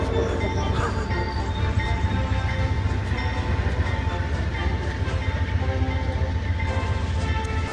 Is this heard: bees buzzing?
no